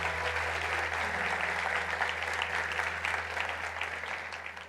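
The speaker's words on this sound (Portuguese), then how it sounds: "Dê um aplauso ao Senhor" Church congregation applauding together, a steady wash of clapping over a low organ or keyboard hum, fairly even throughout and tapering slightly at the end.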